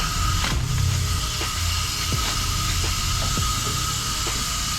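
Hand ratchet working loose 18mm hub bolts on a 2009–2018 Ram 1500 during a wheel bearing job, giving several spaced ratcheting clicks over a steady background hum.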